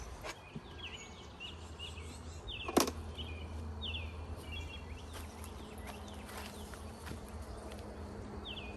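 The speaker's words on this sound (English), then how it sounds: "Let's transfer some bees, people." A steady, close hum of many honeybees buzzing as a small nucleus colony is transferred into a full hive, with an occasional louder bee zipping past amid faint outdoor chirps.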